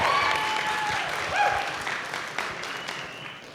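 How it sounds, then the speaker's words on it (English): A crowd at a toast or speech claps steadily, a dense patter of applause fading slightly toward the end, with a few faint whistles mixed in. "That deserves an applause."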